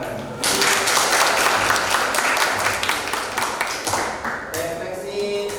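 Dense applause from a group gathered for a classroom reflection session swells in quickly and carries steadily for several seconds at close range, then thins out near the end.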